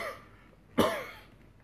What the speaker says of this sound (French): mets ta bouche dans ton cou quand tu tousses